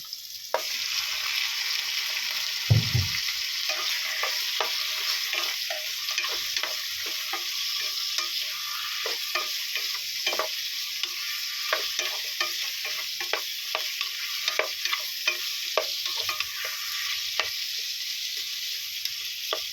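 Chicken pieces fry in a pan with a steady broadband sizzle, broken by frequent light scraping stir strokes and one low thump early on, close and with no talking throughout.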